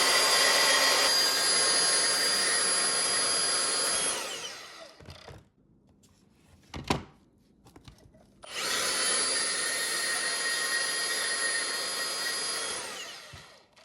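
A bandsaw cutting through deer bones in a cluttered workshop, two long loud stretches of harsh whining blade noise separated by a pause with a brief clunk of handling.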